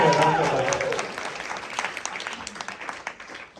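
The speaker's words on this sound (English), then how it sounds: "Let's give a round of applause." Audience applause at a computing conference presentation, starting as a full burst that fades over a few seconds into scattered individual claps, with a voice heard early on.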